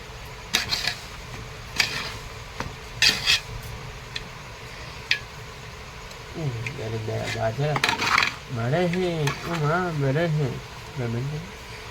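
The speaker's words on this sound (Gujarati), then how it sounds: "કરી નાખ્યું છે આપણે, મિશ્રણ કરી નાખીએ બરાબર" Metal utensils clink and scrape against a pot while a laddu mixture is stirred, with irregular taps at first and then a voice speaking over the stirring.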